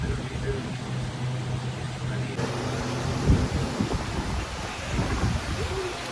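Constant roaring wind buffets the microphone throughout, with a person talking underneath the rumble.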